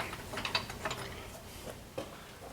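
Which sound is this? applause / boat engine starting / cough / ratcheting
ratcheting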